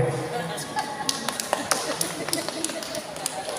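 A church audience claps in scattered, uneven bursts in response to a preacher, the claps sharp and mid-distance over a steady murmur of voices in the room.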